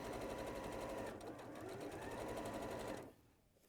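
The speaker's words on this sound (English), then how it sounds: "I'll just watch you stitch a straight line" A domestic sewing machine runs steadily, stitching a straight seam on a box-bottomed bag, loud and close with a brief slowdown midway before stopping abruptly near the end.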